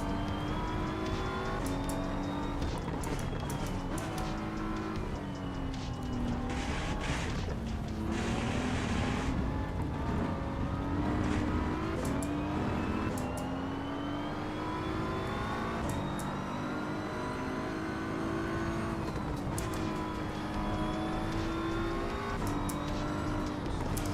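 GT3 race car engine in the racing sim Assetto Corsa EVO, a continuous loud howl rising and falling through gear changes and revs, with brief whooshes and bumps, heard alone.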